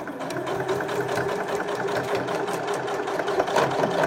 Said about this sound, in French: Et vous allez pouvoir déjà voir ce qu'elle a dans le ventre, cette machine, pour pouvoir passer les épaisseurs.